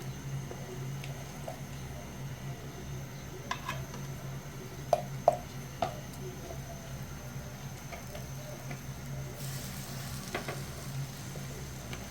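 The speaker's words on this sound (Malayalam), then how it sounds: "ഞാൻ അടുത്തത് മീന എടുത്ത് നിരത്തി അതിൻ്റെ പുറത്ത് വെക്കാം." Marinated fish pieces laid out on sliced onions in a hot pan give a steady, fairly quiet sizzle, broken by a few light clicks and taps as the pieces are placed.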